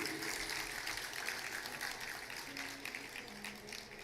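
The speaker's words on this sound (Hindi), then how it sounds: "यदि कोई कमी ना हो तो ताली जरूर बजाना" An audience at a Hindu religious gathering applauds, a continuous, even wash of many hands clapping at a steady moderate level for several seconds.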